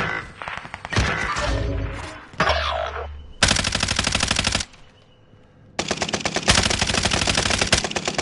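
Hostile automatic gunfire in Call of Duty, loud sustained machine-gun bursts in several long rattling volleys separated by short gaps, close and dominant.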